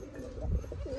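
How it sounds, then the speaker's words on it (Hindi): Domestic breeding pigeons cooing close by outdoors in sunlight, a soft, low rolling warble that rises and falls over about a second with nothing else over it. "कितना बेहतरीन क्वालिटी का कबूतर,"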